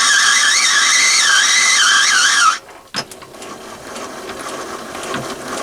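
A metal lathe screw-cutting a thread, taking 5 thou per pass, runs with a steady whining tone, then stops abruptly. A sharp clack follows, and softer mechanical rattles and movement trail off afterward.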